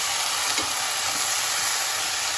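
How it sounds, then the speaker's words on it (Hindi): Fresh peas and chopped tomato roast in a pan for pav bhaji, giving a steady close sizzle with soft scraping from stirring and no voices. "और इसको अच्छे से मिला लेंगे, भून लेंगे थोड़ा सा इसे।"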